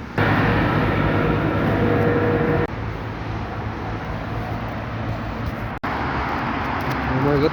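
A continuous low rumbling ride noise, like a tram rolling along rails, fills the clip, with a brief drop partway through and a sudden break near the end.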